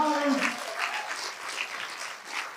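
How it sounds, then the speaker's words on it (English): Audience applause at a charity awards fundraiser, a loud burst of clapping from a crowd lasting throughout, with a brief voice over the start. "Give them a round of applause in the back."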